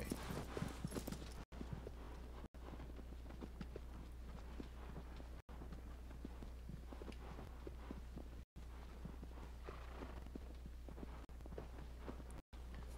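Horse hooves clip-clop in a steady, rhythmic trot across open fields in the video game Shadow of the Colossus, faint over a low constant hum, with no voices.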